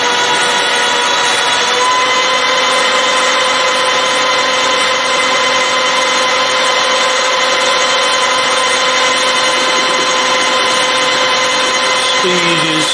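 A milling machine cuts a steel vice stop at 581 RPM with a five-thou feed, taking 0.2 mm off each side: a steady, continuous whirring and grinding that holds evenly throughout, with no talking.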